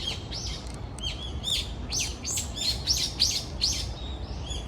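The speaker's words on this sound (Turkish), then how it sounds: "Şehrin ortasındasınız ama kuş sesleri duyuyorsunuz sadece." Several birds chirping and tweeting close by in a Tokyo city garden, quick bright calls overlapping in a lively stream over a soft background hush.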